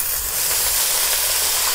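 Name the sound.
deglazing onions with white wine in hot pan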